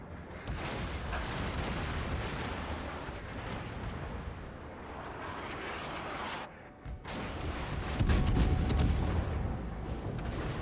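Naval gunfire in World of Warships from a Moskva battle: sustained heavy booming salvos rolling over a continuous rumble, with a short dip in the middle and a louder blast near the end, no voices.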